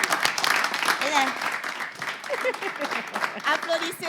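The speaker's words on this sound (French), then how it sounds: "Applaudissez encore." Audience applause fills a hall at an event in Togo, a dense steady wash of clapping from a crowd, moderately loud with a few voices calling out over it.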